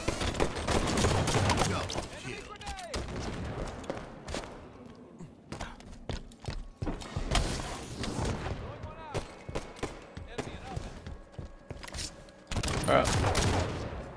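In a shooter video game, gunshots ring out as repeated sharp cracks and bursts, some close and loud and others more distant, against busy background noise with occasional thuds and footsteps, and a voice talks now and then.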